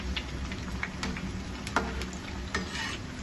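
Steady frying in a pan over a medium flame, a continuous close sizzle with occasional stirring scrapes and small pops, no talking.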